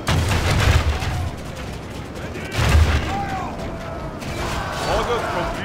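Volleys of gunfire in an Elder Scrolls Total War battle video game, two heavy booming bursts with crackling rolling echoes over constant battlefield din.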